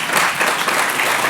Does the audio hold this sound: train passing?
no